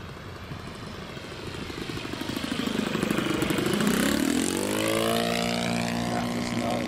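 A Ben Buckle Super Buccaneer RC model aircraft engine runs at tick over, a buzzing propeller drone whose pitch shifts and swells as the plane passes, steady and moderately distant.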